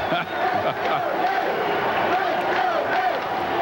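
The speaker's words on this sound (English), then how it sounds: "You hear the crowd chanting, "Let's go Mets."" Baseball crowd at a Mets game in Houston in 1984, chanting 'Let's go Mets' as a steady, distant roar of many voices under a broadcaster's talk.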